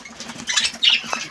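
Pet parakeets being fed pandesal bread flap their wings in quick soft bursts nearby, a brief fluttering patter with no talk.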